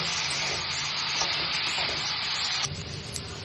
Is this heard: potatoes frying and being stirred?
yes